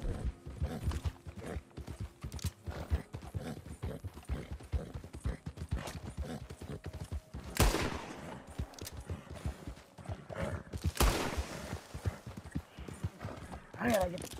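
Rhythmic hoofbeats of a galloping horse in a video game set in West Elizabeth, with someone talking over them and a couple of sharp bursts and whooshes.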